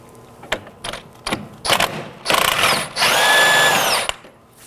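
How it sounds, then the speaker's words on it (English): An impact gun with a 24mm socket loosens the jam nut on the outer tie rod of a 2018-2024 Chevrolet Equinox, firing in several short rattling bursts that run into a longer, sustained hammering whir, loud and close. "Now to remove the jam nut, I'll be using a 24mm on an impact gun."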